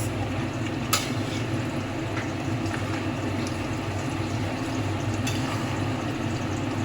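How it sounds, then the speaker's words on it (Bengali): Potato pieces frying and sizzling in a pan of mutton curry (jhol) with tomato, salt and sugar, a steady close bubbling hiss with faint light clicks of stirring throughout. "ভালো করে আলুগুলোকে তলায় দিয়ে দেবো, আর এটাকে আরও কষাতে থাকবো।"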